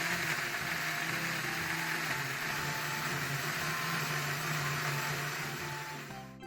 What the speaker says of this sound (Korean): 사과 4분의 1개와 양파 1개를 갈기 좋은 크기로 자른 뒤 믹서기에 곱게 갈아주세요.